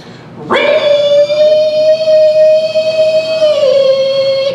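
A voice imitating a Prius straining to tow a tiny house, a loud sustained nasal whine held steadily for several seconds with a slight dip near the end, performed on stage at a comedy show in a coffee shop.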